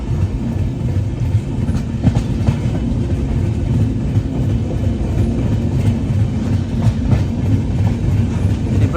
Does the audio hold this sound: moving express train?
yes